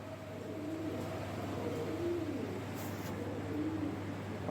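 Pigeons softly coo in a breeding loft, low repeated murmuring calls spaced a second or so apart over a constant low hum, fairly faint and close.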